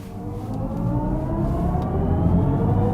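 A 2023 BMW i4 eDrive35 electric car accelerating from 0 to 60 without a launch, its motor whine climbing steadily in pitch over loud, continuous road and wind rush.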